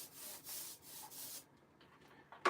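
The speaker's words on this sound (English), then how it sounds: "You'd be surprised how hard it is to spread this glue once you've sanded the MDF." Soft, rhythmic rubbing strokes as glue is spread across sanded MDF for oak veneer panels, several scraping passes followed by a quiet stretch and a short sharp knock at the end.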